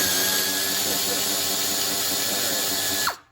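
A tiny air ratchet loosening small 10mm bolts on a Cub Cadet GTX 1054 during transmission drive belt replacement, producing a loud, close, continuous high whirring buzz that drops away sharply at the end.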